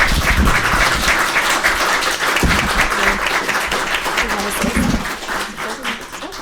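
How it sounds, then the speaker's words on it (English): An audience at a talk on payday loans and student debt claps in a dense, loud burst of applause that carries on for several seconds, then thins out and fades toward the end. "Maybe we could give a round of applause to thank Rich and Seth."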